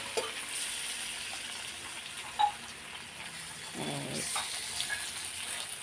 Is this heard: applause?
no